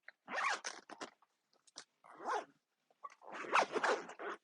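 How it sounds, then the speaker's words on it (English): A zipper pulled closed along the front compartment of a TCG tournament backpack holding a trade binder, heard as several close, raspy bursts with short pauses between them. "I could put the trade binder right up front here and zip it closed"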